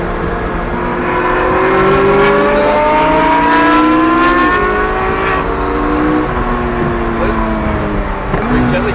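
A Lamborghini or McLaren sports car drives on a race track under gentle throttle through a turn, its engine drone loud and steady with tones rising and falling slightly as the revs shift, heard from close by.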